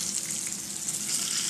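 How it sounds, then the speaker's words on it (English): Pork chops frying in a pan give a steady, even hiss of spitting fat, close and constant for a moment with no voices. "And now we're just going to fry them off."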